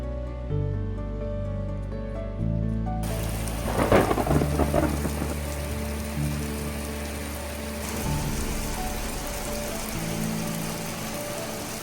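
Steady heavy rain pours down while a rumble of thunder rolls through, strongest early then fading under the constant downpour.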